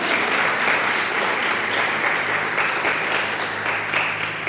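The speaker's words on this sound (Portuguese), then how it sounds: "aplauda bem forte o nome de Jesus" A church congregation applauds loudly and continuously, a dense, even roar of clapping hands with a faint low hum beneath it.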